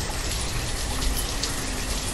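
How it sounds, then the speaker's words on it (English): Heavy rain pours steadily in a village-building game, a dense, even hiss of falling drops with no voices. "And it's raining like mad."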